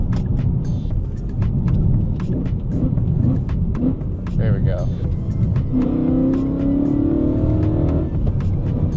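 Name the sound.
car engine revving, exhaust switched from quiet mode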